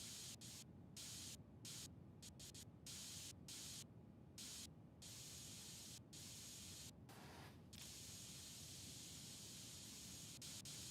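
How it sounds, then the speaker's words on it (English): A spray can coats a PC case with sick green paint in PC Building Simulator 2, a long, steady, faint hiss broken by several short pauses where the nozzle is released. "It's a lot of spray paint."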